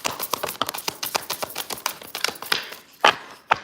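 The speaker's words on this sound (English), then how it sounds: "Anything else from this deck? Last shuffle." A deck of tarot cards is shuffled in quick, rhythmic riffling taps close by, ending with two sharper snaps as the cards are squared.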